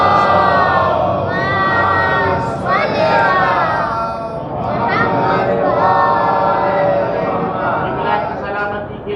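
A large crowd at a Muharram majlis shouts a loud rhythmic religious chant in unison, voices swelling in repeated waves of call and response, dense and echoing.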